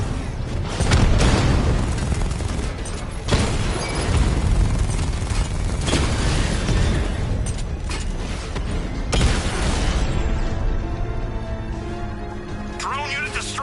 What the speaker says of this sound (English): Drone unit destroyed at the canal.